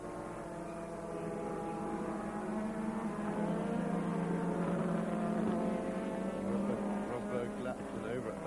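Racing cars sweep through Stowe Corner at Silverstone at over 160 mph, a steady loud engine roar filling the whole stretch with no break, no talk heard.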